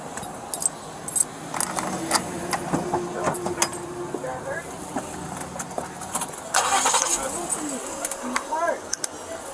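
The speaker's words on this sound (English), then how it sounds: "Go ahead and turn the car on" A car engine cranks and catches during a police stop, with people talking over it while keys jangle nearby.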